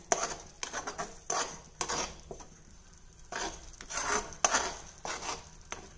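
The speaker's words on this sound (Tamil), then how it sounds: "இப்போ நம்ம நல்லா கலந்து விட்டுறலாம்." Utensil stirring tomato gravy in a cooking pan, scraping and clinking in a series of short strokes with brief pauses, close and fairly quiet.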